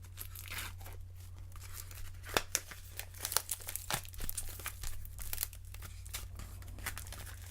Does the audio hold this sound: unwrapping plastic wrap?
yes